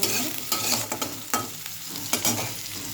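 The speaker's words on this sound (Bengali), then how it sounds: "এটা একটুখানি সাঁতলে নিলাম" Food sautéing in a hot pan with potatoes just added, a steady sizzle broken by repeated scraping stirs of the spatula, close and fairly loud, no voices.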